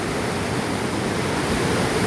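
Balaybayen Falls in Berong, Palawan roars as a steady, dense rush of falling water, close and loud, a broadband hiss without pauses or voices.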